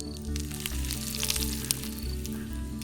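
Oil sizzling in a pan for Champaran-style chicken cooked outdoors by a river, a steady close frying crackle with little else over it.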